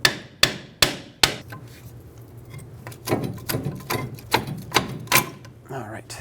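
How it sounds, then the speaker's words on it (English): Sharp metallic hammer taps on stuck brake pads in a rear caliper of a Chevrolet Silverado 2500 HD ring out, four evenly spaced strikes, then a pause, then a quicker run of lighter taps close by. "You can tap them with a hammer if they're really stuck."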